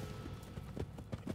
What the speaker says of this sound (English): the two horses break into a trot